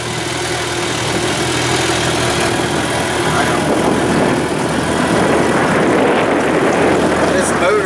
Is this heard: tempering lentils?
no